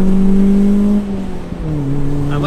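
A small car's engine hums close by on a narrow country road, its tone dipping as the driver shifts and then rising again as it accelerates, with no talking.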